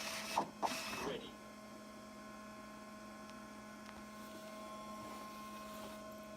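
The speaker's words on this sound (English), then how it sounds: "The Index Basic D is great to emboss documents for students" An Index Basic D Braille embosser runs with a steady mechanical hum and whir after a few opening clicks and knocks, with faint intermittent ticks as it embosses a document, fairly quiet and close.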